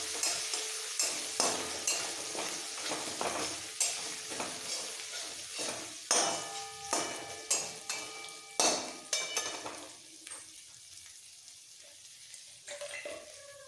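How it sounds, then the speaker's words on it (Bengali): Chopped ginger is stirred into tempering spices frying in a pan for lemon rice, with steady sizzling and a regular series of close scraping and tapping strokes against the pan. "ফোড়নের সাথে আদাটা একটু মিক্স করে ফেলবো যাতে কাঁচা গন্ধ না থাকে।"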